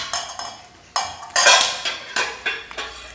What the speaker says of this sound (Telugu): చిన్న డిష్ గిన్నె చూడండి